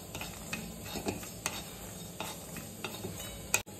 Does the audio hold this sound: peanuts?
yes